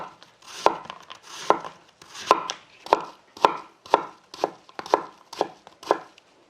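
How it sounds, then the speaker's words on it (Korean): A knife slicing through an apple on a cutting board, about a dozen crisp, evenly spaced chopping strokes close to the ear in a steady rhythm, with quiet gaps between cuts. "요새 사과 흔하잖아요. 그래서 흔한 또 과일을 하나 넣으면 안에 맛도 있고 달큰해지니까 좀 썰어볼게요"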